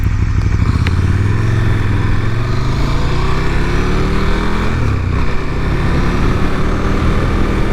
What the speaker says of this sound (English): You can kind of hear the exhaust there.